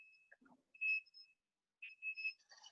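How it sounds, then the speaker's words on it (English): An automatic frying machine beeps when its food comes out of the oil: a few short electronic beeps in separate pairs, moderately near in a quiet room. "it has come out of oil and it has also started beeping"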